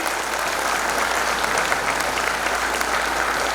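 Loud, dense applause from a large audience at a university ceremony attended by the Governor of Uttarakhand, honouring medal winners. The clapping is steady and sustained throughout, with no pause or fade.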